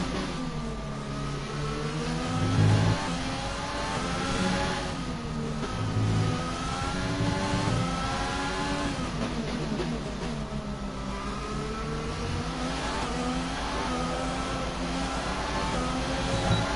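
A Formula 1 car engine in the F1 2020 video game, revving high and shifting through gears on a flying qualifying lap, its pitch repeatedly climbing and dropping through corners, loud and continuous.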